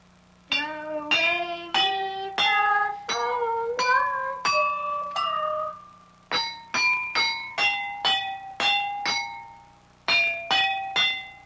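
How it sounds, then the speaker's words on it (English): Eight water-filled glasses of a water glass xylophone are struck, ringing out clear, bell-like tones one by one in a steady stepping sequence, each note sustaining briefly; no voices. "That's all you'll need to make a water glass xylophone."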